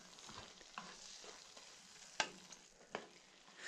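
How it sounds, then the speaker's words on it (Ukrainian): Porcini mushrooms sizzle quietly in a pan over medium heat, with a soft continuous frying hiss and a few sharp scrapes from stirring. "Смажимо гриби на середньому вогні."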